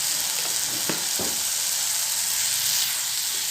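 Tomatoes sizzling in a pan as a spoonful of turmeric is added, a steady close frying hiss with a couple of brief spoon taps near the start, without any voices.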